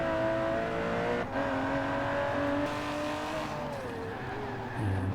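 A modern sports car lapping a test track through a hammerhead corner, engine droning loudly and steadily with pitch shifts as it brakes and powers out with slight oversteer, heard close throughout.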